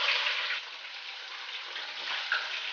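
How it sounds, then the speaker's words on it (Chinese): Chicken wings frying in hot oil in a wok at medium heat, a steady bright crackling sizzle that holds evenly throughout, with a few louder pops near the end. "热锅放油，油温5成热，将鸡翅呢放进来煎炸。"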